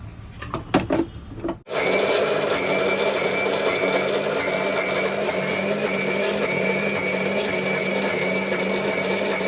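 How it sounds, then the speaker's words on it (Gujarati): An electric mixer grinder whirs steadily at full power, blending soaked poha with curd into dhokla batter, loud and continuous after a few brief knocks and clatters at the start. "અને એને મિક્સરથી રસ કરી નાખીએ"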